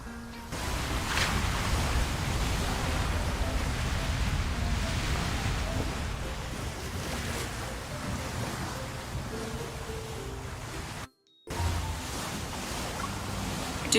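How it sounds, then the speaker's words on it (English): Steady wash of video game ocean surf rolling in, a broad continuous roar of waves with a brief drop to silence near the end. "The sound of the waves seems to be getting louder."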